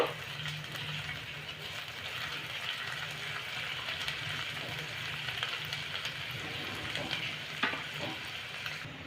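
Ginger garlic paste sizzles steadily in a hot pan, a continuous bright frying hiss with occasional scrapes of stirring, close and even throughout.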